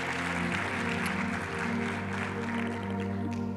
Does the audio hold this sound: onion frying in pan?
no